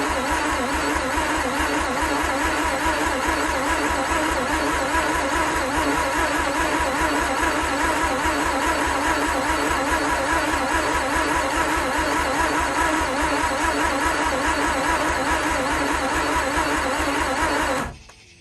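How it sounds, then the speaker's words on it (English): A Mazda RX8 rotary engine cranks with the gas pedal held down, a steady rhythmic starter churn running evenly for about eighteen seconds before cutting off abruptly, with no speech. "we're gonna go ahead and start cranking with the gas pedal down"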